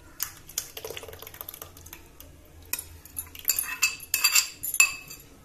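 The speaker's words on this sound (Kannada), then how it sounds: "ಈಗ ಮೊಸರನ್ನ ಸಾಂಬಾರ್ ಸೇರಿಸ್ಕೊಂತ ಇದ್ದೀನಿ" Curd stirred into cooled sambar for buttermilk sambar, a utensil clinking and scraping against a metal pot in irregular taps that grow louder and busier toward the end, with no talk.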